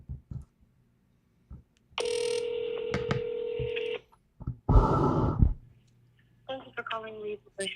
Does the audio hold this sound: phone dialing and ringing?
yes